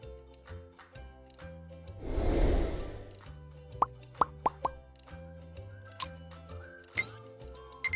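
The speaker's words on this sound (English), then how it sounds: "At this point, you can now add your whitener." Whitener poured into a homemade disinfectant solution: a broad splashing pour swells over about a second, then several sharp small plops and clinks of drops and glassware follow, close and clear, with no voices.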